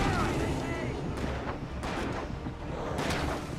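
Gunfire in the Alan Wake video game, a dense run of low booming shots rolling continuously with several sharper bursts, loud and close throughout.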